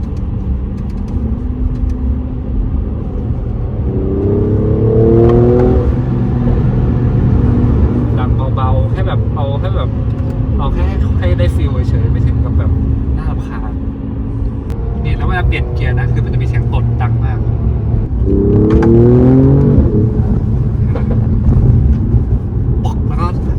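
A 2021 Mercedes-AMG CLS 53 in sport mode drones steadily through a tunnel, with its engine note climbing in a few distinct revs around the middle and later on, while a person talks over it throughout.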